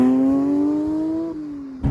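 A Porsche 992 GT3 Touring pulls away with a loud, close engine note that climbs steadily in pitch over about a second and a half, eases off, then ends with a brief thump.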